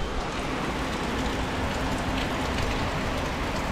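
Dense, steady monsoon downpour in the Konkan hisses and patters without a break, heavy and continuous, with no voices.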